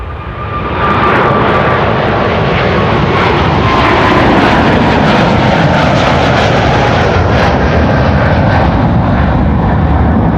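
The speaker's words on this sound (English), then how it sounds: "This is a 777-300. We're going to Lima in Peru, the capital of Peru." KLM Boeing 777-300 jet airliner at Amsterdam Schiphol airport, its engines a loud, steady broadband roar that swells within the first second and then holds for about ten seconds, close by, with no voices over it.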